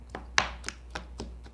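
Very ripe mango being lightly crushed by hand in a home kitchen for a dessert, a few soft, quiet taps and squishy thuds spaced irregularly, alone without talk.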